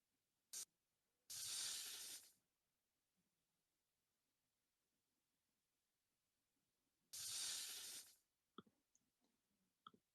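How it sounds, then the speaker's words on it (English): A real snake hissing: two separate broad, breathy bursts about a second long, well apart, fairly quiet, with a few faint clicks around them and no talk. "That was the sound of a real snake who was hissing."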